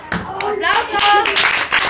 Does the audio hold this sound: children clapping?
yes